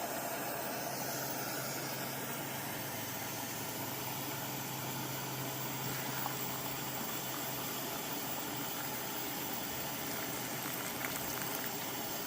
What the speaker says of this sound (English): we have a boil, and a beautiful one